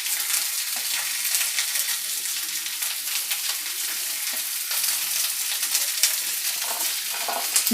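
Six medium sliced onions frying in a hot pan for a Punjabi-style chicken gravy, a loud, steady sizzle with faint stirring scrapes throughout, no voices.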